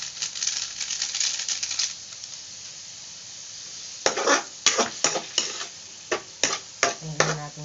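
Pork and shrimp paste fry in a pan with a steady sizzle, then a series of sharp scraping clinks from a utensil stirring against the pan, close and fairly loud, with no talking.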